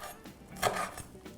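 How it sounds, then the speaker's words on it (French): Green onion or chives being finely chopped with a knife on a board, a few soft, close cuts with one stronger stroke in the middle, no talking. "Je vais hacher finement."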